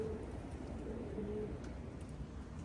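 Racing pigeons arriving at a loft during a one-loft race, with soft cooing from nearby birds over a constant outdoor hiss, no talk.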